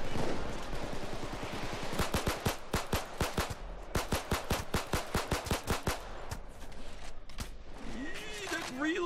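Rapid pistol gunfire in the shooter game Payday 2, a long string of sharp evenly spaced shots over a steady game background, close and loud, with brief pauses between bursts.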